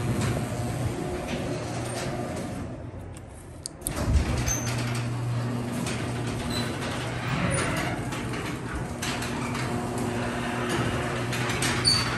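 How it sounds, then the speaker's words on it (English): A Stanley 3205.50 garage door opener runs with a steady mechanical motor drone for about twelve seconds, broken by a brief clunk partway through. "Here we have a Stanley garage door opener."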